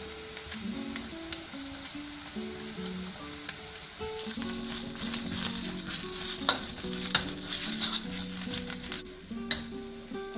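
Onions, garlic and chilli paste sizzle and fry in a pan for a vegetarian mamak-style mee goreng, a constant crackle broken by sharp clinks of a utensil stirring against the pan.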